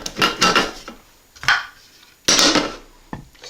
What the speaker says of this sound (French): nous allons le mélanger dans le biscuit que nous avons moulu tout à l'heure. Et là, on va mélanger.